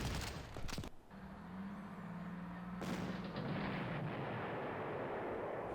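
Heavy artillery bombardment in the war strategy game Panzer Corps: a couple of sharp booming blasts at the start, then a low rumbling roll of distant shellfire that lingers and fades, with no voices.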